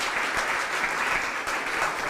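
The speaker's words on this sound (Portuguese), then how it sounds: "Uma salva de palmas para o seu Heron." A church congregation gives Heron, celebrating his 80th birthday, a round of applause: steady, dense clapping from many hands, even and sustained with no voices over it.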